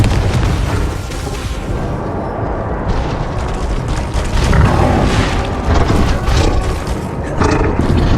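Bombarda and Confringo spell blasts boom and roar one after another in the Hogwarts Legacy video game, loud, dense combat noise filling the whole stretch with repeated heavy impacts.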